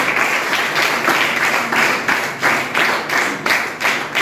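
An audience at an Independence Day gathering at an orphanage claps, producing dense, continuous applause that swells in rhythmic waves and stays close and fairly loud throughout.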